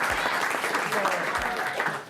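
A small group applauds with steady, moderately loud clapping that runs without a break for about two seconds and then starts to fade.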